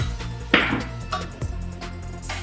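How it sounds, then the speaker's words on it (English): A spoon stirs mixed berries into yogurt in a bowl, giving a few soft scraping and clinking strokes close by, with a brief louder knock near the start. "So I'm just going to mix this."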